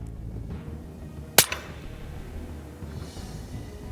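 A single sharp rifle shot from a 6PRS Moses Wildcat fired at long range, one loud crack followed by a short decaying report over quiet outdoor background.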